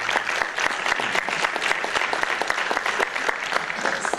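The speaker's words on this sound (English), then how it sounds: "Let's give them a round of applause" A crowd claps steadily and fairly loudly throughout at a school board meeting, a dense, even patter of hands with no pauses.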